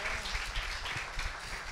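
Applause from an audience at a community peacemakers gathering, a short steady burst of clapping that fills the whole moment with no clear break.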